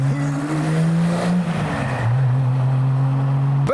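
A Porsche 911 sports car at the Festival of Speed drives past with a steady engine drone that holds through most of the pass. Its tone dips and wavers, then settles, and there is no talk over it.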